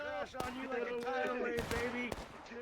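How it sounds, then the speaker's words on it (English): Gunfire in a video game battle with musket-era lines: several sharp, loud shots crack out across a short stretch over a busy bed of continuous battle noise and shouting. "Who fired that gun?"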